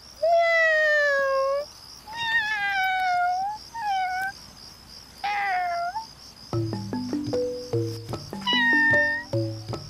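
A cat meows repeatedly in drawn-out, wavering calls separated by short pauses, close and clear, then a series of sharper, choppier tonal sounds toward the end.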